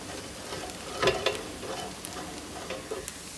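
Bánh xèo fries in a pan without oil, giving a soft, faint sizzle with a few brighter crackles and light scraping sounds near the start, otherwise quiet and steady.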